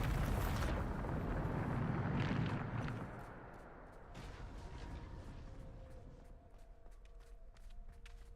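A Bombarda blasting spell goes off in the Hogwarts game, a loud, broad explosive burst that rumbles on for a few seconds before settling into a quieter background with faint steps and tones.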